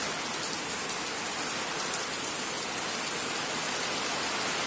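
Heavy rain in a storm pours down steadily, a dense, constant hiss close by with no breaks or voices.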